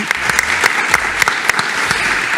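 Brief, lively applause from a studio audience on a French programme about Reims, with sharp individual hand claps audible within a steady, fairly loud ripple of clapping.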